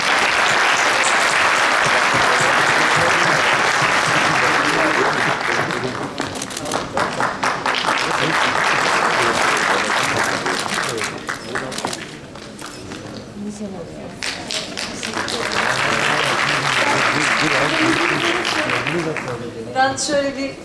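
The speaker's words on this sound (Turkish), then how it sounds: "Bu güzel anne babaya da bir alkış arkadaşlar." An audience at a talk on Atatürk applauds the parents in long, thick waves that dip briefly and then swell again, with voices mixed in.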